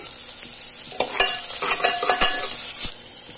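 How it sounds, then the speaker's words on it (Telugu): Chopped onions and two green chillies fry in a pan for a soya chunks biryani, a bright steady sizzle broken by several sharp scraping stirs of the spoon, close and loud, with no talking. "ఇప్పుడు చిన్నగా కట్ చేసి పెట్టుకున్న ఆనియన్స్ వేసుకొని బాగా ఫ్రై చేసుకోవాలి."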